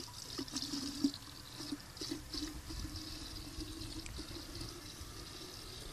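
Water pours steadily into a porous clay olla buried in garden soil, a continuous close trickle with a small splash near the start and no talk.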